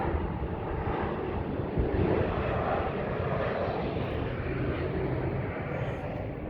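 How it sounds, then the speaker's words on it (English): A fixed-wing aircraft flies overhead with a steady, loud broadband engine roar that holds throughout, with some wind buffeting the microphone and no talking. "Got Jeff Bezos flying a plane over here."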